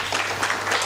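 Brief burst of applause from a conference audience, a dense blur of clapping heard in a fraction of a second over a steady low electrical hum.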